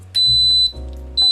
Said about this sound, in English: So it'll beep 3 times